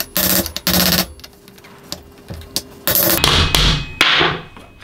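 A mallet strikes a brake pin removal tool to drive out a bicycle bottom bracket, giving sharp, loud metallic whacks in quick clusters and single blows, close up and without speech.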